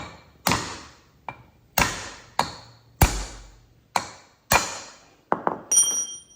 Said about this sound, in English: using a punch and beating it out of here with a hammer